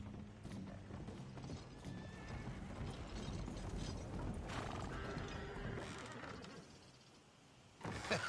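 Horse hooves clip-clop in Red Dead Redemption 2, a steady rhythmic clatter with mechanical creaks running under it, easing off briefly before a louder knock near the end.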